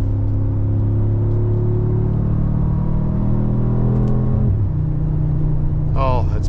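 Loud, steady engine drone from inside a 2024 Mercedes-Benz AMG G63 accelerating in manual shift mode, the pitch climbing through a gear before dropping at a shift, with a voice over the end.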